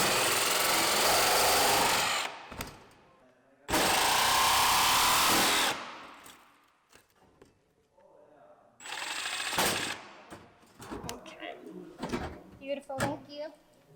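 A power tool cuts through the roof of a Ford Transit high-roof extended van to open a fan hole, in two loud sustained bursts of harsh grinding, then scraping, knocks and handling noise as people talk.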